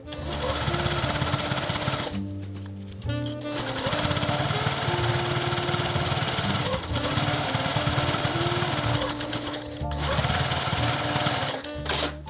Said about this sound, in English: And then you just sew a straight line.